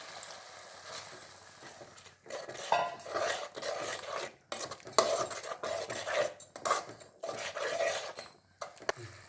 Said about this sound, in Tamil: சோள மாவை கரைச்சி ஊற்றுறேன்